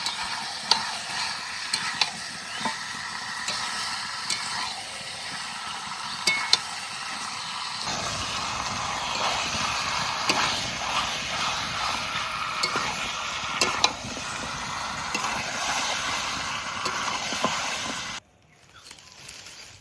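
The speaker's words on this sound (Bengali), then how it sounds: "এবার মাংস ভালো করে কষিয়ে নেব।" Chicken pieces and spices are stirred and fried in a pot over a wood fire, giving a steady sizzle with scraping spoon strokes. Partway through the frying grows louder and denser, then it cuts off abruptly near the end.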